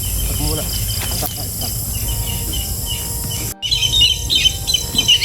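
Tikling birds calling outdoors, bright chirps and calls rising over a constant insect and cricket drone, with a sudden brief cut partway through before sharper, louder chirping resumes.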